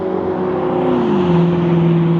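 Cars going by on a street near the Durango casino, a steady loud engine and tyre drone with a smooth falling pitch as one vehicle passes close by.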